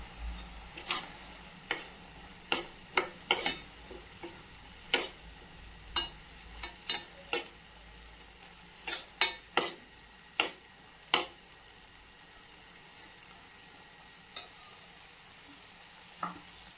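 An onion and tomato masala cooks in a pan for macaroni pasta. It gives a soft continuous frying hiss, and a utensil scrapes and taps against the pan in irregular, fairly close strokes throughout.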